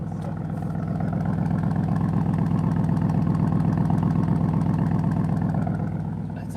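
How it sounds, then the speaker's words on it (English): A 2021 Porsche Cayenne GTS engine idles with a deep, steady, close throb that swells slightly in the middle, with no talking over it. "I'm just loving this idle right now."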